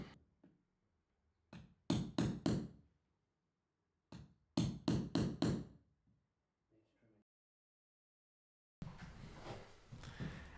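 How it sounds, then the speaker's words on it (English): A hammer strikes a carpet tucker to push a cut carpet edge into a threshold bar, in two quick bursts of four or five sharp, close taps separated by silence, followed by a short rustle. "use the carpet tucker or a flat blade scraper and hammer to tuck the cut edge into the threshold bar"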